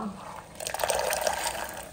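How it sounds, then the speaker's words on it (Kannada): Soaked peas splash and tumble into boiling water in a pressure cooker, a short wet pouring and bubbling sound close by that swells midway and keeps going. "ಕುಕ್ಕರಲ್ಲಿ ನೀರು ಕುದೀತಾ ಉಂಟು. ಈಗ ನಾವು ಬಟಾಣಿ ಬೇಯಿಸಲಿಕ್ಕೆ ಹಾಕುವ."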